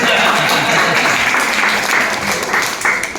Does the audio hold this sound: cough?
no